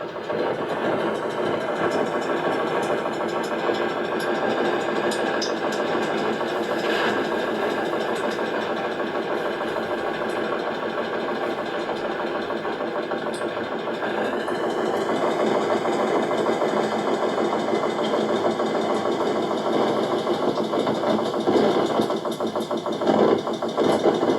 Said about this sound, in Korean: 지금 여러분 돌아가는 소리를 들어보면 뭔가 기계 소리인데 뭔가 이게 콤프락사 같던 이런 소리가 아닌가